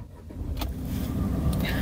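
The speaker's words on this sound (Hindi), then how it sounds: "गाड़ी को स्टार्ट करने पे जो इनिशियल इंप्रेशन है, मैं आपको यही बोलूँगा कि गाड़ी आपको ज़्यादा वाइब्रेट नहीं होती है।" A 2024 Tata Tiago CNG AMT engine starts and settles into a steady low idle rumble, heard from inside the cabin with faint clicks over the drone.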